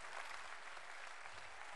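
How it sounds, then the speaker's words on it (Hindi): Faint, distant audience applause at a Hindi poetry recital, an even wash of clapping that stays steady through the short stretch without distinct claps standing out. "चलो भाई और जोरदार ताली बजा दो"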